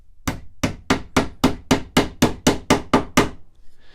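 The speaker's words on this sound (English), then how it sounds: "just tap it home with a hammer" A hammer taps a wooden plug into a screw hole on a furniture hutch, about ten sharp, evenly spaced knocks, close and loud, with a faint scrape after the last blow.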